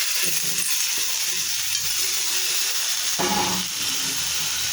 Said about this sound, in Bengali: এবার মসুর ডাল ধুয়ে রেখেছিলাম সেগুলোকে দিয়ে দিচ্ছি।